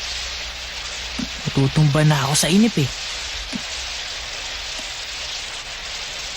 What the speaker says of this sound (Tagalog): Walang ibang magawa pag umuulan na ganito.